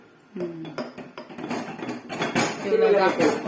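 A ladle stirring thick ragi kali (finger millet porridge) in a metal pot over low heat, with clanking and scraping strokes against the pot and a brief voice in the background.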